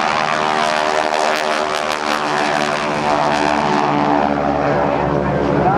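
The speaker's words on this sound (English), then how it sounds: "Flight number 2 as they take off. Watch them as they get about 25 or 30 feet off the ground" SNJ propeller aircraft take off in formation at the NAS Oceana airshow, a loud, continuous radial-engine drone that rises and shifts in pitch as the planes climb away, with no voices.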